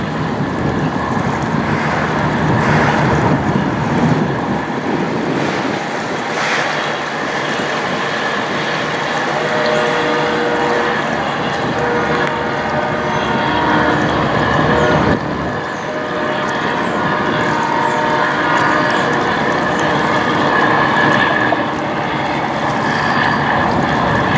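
A tugboat passes on water below Lake Huron, its engine a steady broadband rumble mixed with wind buffeting the microphone and lapping waves, continuous and fairly loud throughout with no talking.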